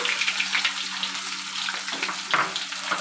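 Chopped tomato, onion and green chili are tipped into hot oil already holding bay leaf and whole garam masala, the start of a mutton curry. A steady, moderately loud hiss and sizzle runs throughout, with no voices.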